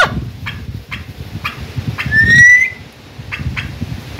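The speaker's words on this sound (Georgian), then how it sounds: "ინდაურები რა ერშვებიან. ყოლოყლოყობენ." Turkeys gobble in a farmyard in short, repeated bursts with a brief high whistle-like note in the middle. The calls are moderately loud and close, and no one speaks.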